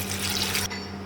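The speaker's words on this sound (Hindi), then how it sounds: "ये पानी आपने चावलों के हिसाब से ऐड करना है।" Water is poured steadily into a pot for mutton yakhni pulao rice, a continuous close splashing pour that cuts off abruptly near the end.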